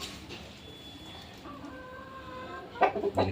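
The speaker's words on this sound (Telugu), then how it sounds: "ఫుల్ కండిషన్లో ఉన్న కోడిపిల్ల" A young fighting cock in full condition, ready to fight, gives a short burst of close, loud clucks near the end, after a quiet stretch of faint background bird calls.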